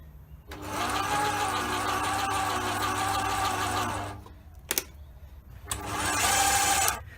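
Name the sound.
metal lathe running with carriage feed engaged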